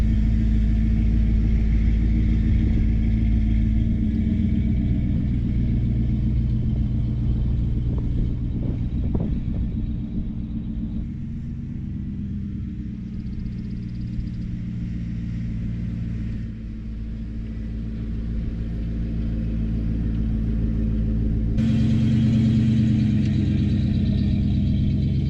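An OBS Ford Bronco half cab truck rolls along with a steady low engine rumble and road noise. The drone eases and swells as it drives, and wind buffets the microphone.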